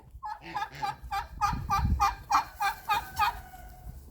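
A turkey gobbles in a rapid burst of about a dozen rippling calls, loud and near, in a farmyard with geese.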